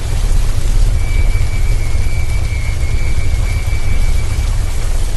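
Steady heavy rain pours down over an old, deserted graveyard, a loud continuous hiss with a deep rumbling thunder bed beneath, no voices present.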